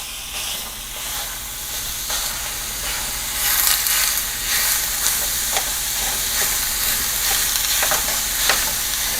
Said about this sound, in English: So throw my hamburger in.